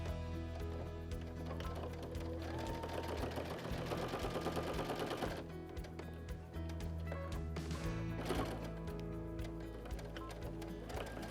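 Sewing machine stitching rows of quilt sashing, a continuous close mechanical whir with a rhythmic clattering pulse, running through nearly the whole stretch with slight pauses and changes in pace.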